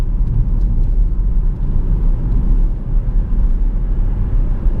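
A 2010 Jaguar XF 5.0 V8 S driven fast, its engine giving a loud, steady low rumble with road noise that holds throughout, with no talk over it.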